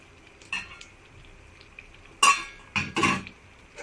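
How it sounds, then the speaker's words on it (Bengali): A lid comes off a pot of mashkalai dal with a few sharp metallic clinks and clatters, mostly bunched in the second half, against a quiet kitchen background. "এখন ঢাকনাটা উঠিয়ে দেখব ডালের কি অবস্থা।"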